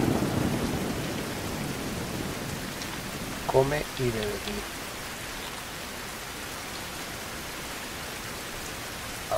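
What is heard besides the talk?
rain and thunder in video game Fountain of Youth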